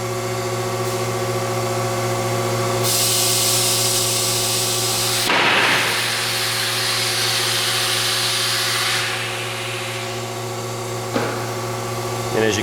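An automated Onsrud 36210 inverted pin router with an RS24 autofeeder, wired for 3-phase power, runs with a steady loud mechanical drone while its arm swings over to load a workpiece, with surges and a sharp clunk partway through.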